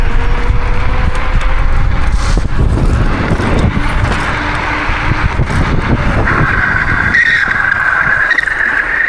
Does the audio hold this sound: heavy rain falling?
no